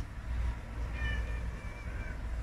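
A cat meows a couple of times, drawn-out and moderately close, over a steady low hum in a quiet indoor Kundalini yoga session, with no talking.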